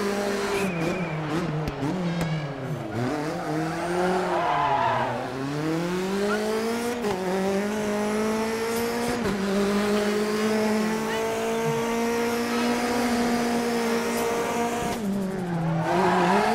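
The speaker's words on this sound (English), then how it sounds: "I love that turbo flutter. Do you hear that?" Lancia rally car in the racing game Dirt 3, its engine note rising and falling continuously through gear changes, loud and close throughout with no talk over it; the turbo flutter itself is not clearly separable from the engine sound.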